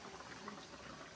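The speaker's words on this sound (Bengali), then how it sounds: "দেখবো যে ঝোলটা ফুটে গেছে" Fish curry broth bubbling at a rolling boil in a pan, a dense continuous simmering hiss with soft pops, close and steady.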